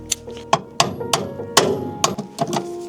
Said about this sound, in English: So I gotta hammer this on there, and hopefully we get out that stuck rusted bolt right there.